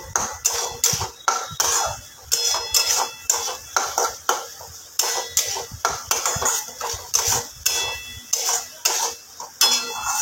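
Mutton masala is sautéed and stirred in a pan, a rhythmic run of spoon scrapes and clatters against the metal over a steady sizzle, repeating roughly every half second.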